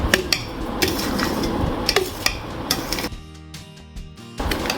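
Pickle masala being stirred with oil in a bowl for a homemade ker pickle, giving close scraping and clinking of a spoon against the bowl in irregular bursts, with a short quieter pause partway through.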